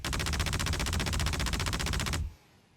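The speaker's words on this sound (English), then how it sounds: "8 Gatling guns, each firing ballistics" Eight Gatling gun cannons on an Anvil Valkyrie in Star Citizen firing ballistics in one dense, continuous roar of rapid shots for about two seconds, then stopping abruptly, leaving a faint low hum.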